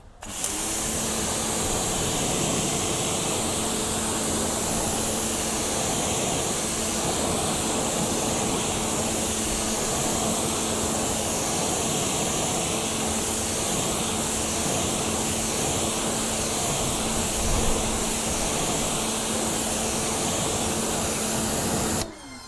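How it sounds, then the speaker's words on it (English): Water spraying steadily onto a car's rear wheel and tyre during a non-acid wheel cleaner test, a continuous hissing rush that stays loud and even from start to finish with no talking. "Let's go ahead and rinse that off."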